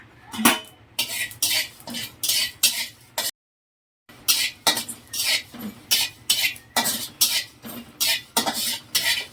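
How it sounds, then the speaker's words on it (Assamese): Panch phoron spices are stirred in a wok with a utensil, giving rhythmic scraping clatters roughly twice a second, close and fairly loud, with a brief silent break midway. "এতিয়া মই এই কেৰাহীটোৱে পাঁচফোৰণটো ভালকৈ ভাজি ল'ম।"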